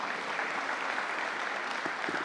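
Faint, steady clapping comes from a crowd at a community dedication ceremony for a crisis receiving center. It forms a short, even wash of applause that sounds somewhat distant.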